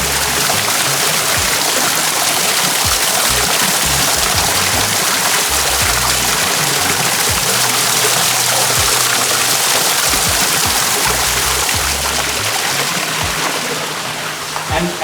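Natural spring water trickles from the rock inside a cave, a steady, dense rushing and splashing that holds at an even level throughout and fades slightly at the very end.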